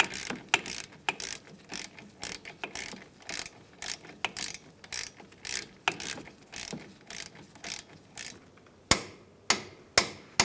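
A ratchet torques front brake caliper bolts on a 2007-2015 Mazda CX-9 to 85 foot-pounds: repeated close clicking strokes in short bursts, ending with a few sharper metallic clacks.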